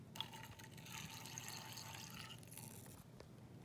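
Mio flavour liquid pours into a smoothie mixture in a steady, soft, continuous trickle with a faint splashing hiss, quiet and close.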